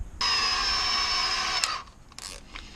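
A power drill bores down through the top of a wooden mallet head, a loud steady whine with clear tonal harmonics that runs about a second and a half, then cuts off, leaving quieter rustling.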